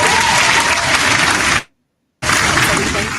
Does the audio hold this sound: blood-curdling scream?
no